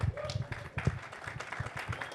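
Scattered applause from a conference audience for panelists at an MLS innovation panel, moderately quiet clapping mixed with some low murmuring, lasting a couple of seconds.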